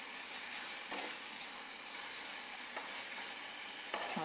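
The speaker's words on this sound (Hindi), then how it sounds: "इसको अब पका लूंगी एक बार सॉफ्ट होने तक" Tomatoes salted for chutney cook in a pan with a faint, steady sizzle and hiss, broken by a few soft stirring scrapes.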